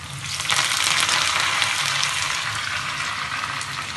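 Curry leaves dropped into hot oil with onions for Telugu kattu, a loud, close, hissing sizzle that bursts up quickly and then settles into a steady crackling fry.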